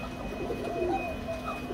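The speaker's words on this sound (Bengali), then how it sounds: "চিকুন সুরের ডাক যারা শুনতে চান বন্ধুরা আজকে চমৎকার পেয়াটা নিতে পারবেন। এ হচ্ছে সেই ভাইরাল কোকা কবুতর" Pigeon cooing from a grey-barred Koka pigeon sold as a singer, heard as a close, steady, soft cooing call over a low background hum, with no talking.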